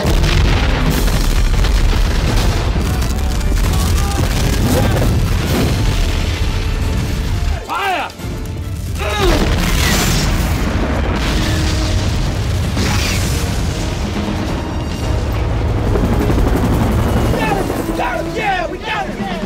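Tank cannons fire in a loud film battle scene, heavy booms and blasts layered densely with engine rumble and shouted radio talk throughout, a brief lull near the middle before the barrage resumes.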